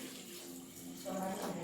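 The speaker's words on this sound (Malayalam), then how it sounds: "പിന്നെ ഇപ്പോൾ ഞാൻ ഇതിലേക്ക് ആവശ്യത്തിനുള്ള വെള്ളം ഒഴിച്ച്" Water is poured from a tap-like stream into a pot of jackfruit seeds, a steady, fairly quiet gush that grows louder toward the end, with a faint voice underneath.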